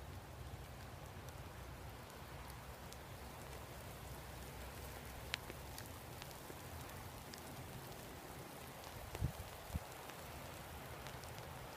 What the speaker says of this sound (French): ce matin, il pleut. Eh oui, on est sous la pluie.